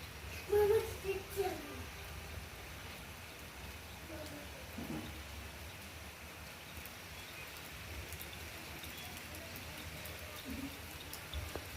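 Steady rain falling at a market in Shillong, a continuous soft hiss that stays even throughout, with faint voices briefly near the start.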